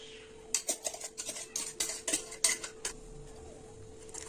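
Ground batter for banana pancakes scraped out of a grinder jar into a bowl: a quick run of close metallic spoon scrapes and clinks against the vessel, lasting a couple of seconds, then quiet.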